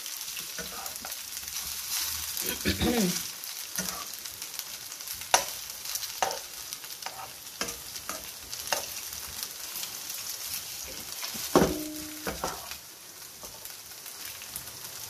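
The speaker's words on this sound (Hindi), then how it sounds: "2 मिनट में ये चिकन जो है ना ये फ्राई होके सॉफ्ट हो रही है" Pieces of chicken breast coated in salt, black pepper, soy sauce and cornflour shallow-fry in a pan with a steady soft sizzle, with occasional clinks and stirring sounds.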